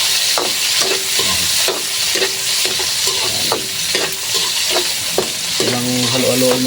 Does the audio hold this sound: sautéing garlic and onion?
yes